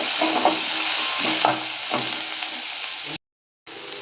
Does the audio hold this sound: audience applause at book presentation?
no